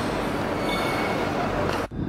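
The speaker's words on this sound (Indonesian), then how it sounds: "Udah gitu dari Sengkang kita ambil LRT jurusan Kupang." Singapore LRT light rail train heading toward Kupang from Sengkang: a steady, loud rumble of wheels on track with faint squeal, heard from on board, cutting off abruptly near the end.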